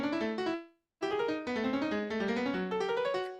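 Quick, loud synthesized notes from Scamp's built-in sound font run in fast stepped interval patterns, broken by one short pause, then resuming in a dense, bright stream.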